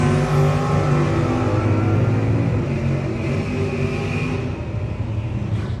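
Drag racing cars launching at a no-box 660 shootout, a Chevrolet Nova and an S10 pickup, a loud sustained engine roar with rising harmonic tones that slowly fades as the cars pull away.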